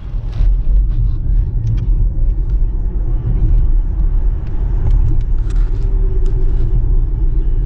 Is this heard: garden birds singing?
no